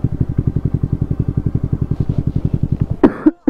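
A man riding with a group on a KTM RC 390 gives a couple of short, harsh coughs near the end, close and loud, over the steady thumping idle of a motorcycle engine.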